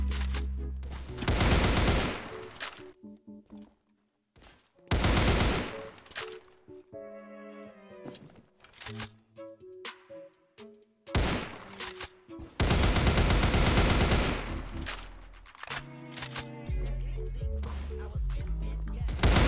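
Gunfire from the Counter Blox shooter game, loud bursts of rapid automatic shots separated by short gaps, with scattered single shots and clatter between them; no voices over the firing.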